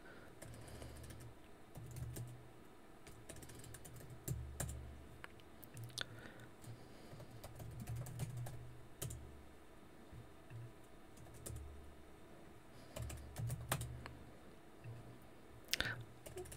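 A password being tapped out on the computer keyboard of a Raspberry Pi 4 desktop kit, with very faint, quick bursts of key clicks separated by short pauses.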